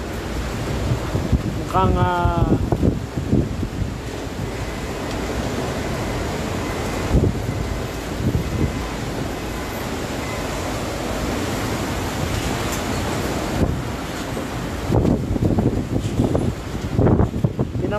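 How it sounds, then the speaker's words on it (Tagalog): Strong typhoon wind from Super Typhoon Rolly (Goni) batters Naga City, a loud roaring, gusting rush with microphone buffeting and surges, while a reporter's voice speaks intermittently over it. "malakas raw yung hangin"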